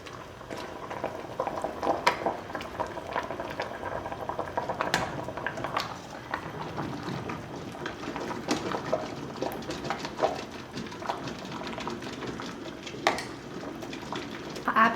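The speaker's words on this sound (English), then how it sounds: "And they're ready to go into the water bath." Jars of canned peaches sit in a pot of boiling water for a water-bath process, a steady bubbling and rolling simmer with occasional soft glassy knocks, continuous and moderately near.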